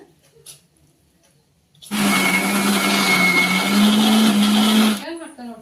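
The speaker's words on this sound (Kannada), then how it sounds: "ಅದನ್ನ ಫಸ್ಟ್ ಮಿಕ್ಸಿಗೆ ಹಾಕುವಂಥದ್ದು ಈಗ" A mixer grinder grinding dry spices kicks on with a loud, steady whirring roar for about three seconds, then cuts off abruptly; faint voices are heard before it starts.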